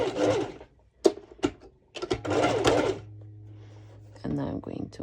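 A sewing machine stitches fabric for a cropped top in short mechanical runs, with a speaking voice over and between them.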